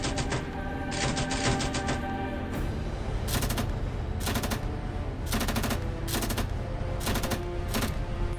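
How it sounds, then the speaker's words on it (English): Video game battle with rapid machine gun fire in repeated bursts, dense crackling volleys over a constant rumbling combat background with no pauses. "A machine gunner provides cover."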